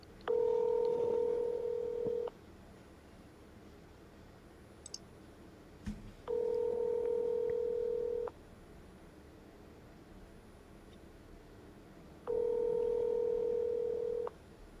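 Three separate bursts of steady telephone call-progress tones, each about two seconds long, spaced several seconds apart as calls are placed again and again, with faint clicks in the quiet gaps between them.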